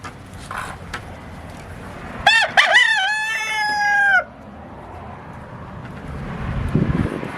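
A rooster crows once, loud and close, a drawn-out call over outdoor wind noise, with a free-range duck and poultry yard around it.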